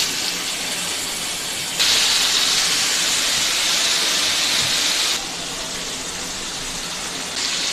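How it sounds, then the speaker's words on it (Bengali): Prawns dropped one by one into hot oil give a loud, steady frying hiss that swells abruptly, holds, then drops back down, close up with no voices. "তো এই তেলটা গরম হলে আমি চিংড়ি মাছগুলো ছাড়বো এক এক করে।"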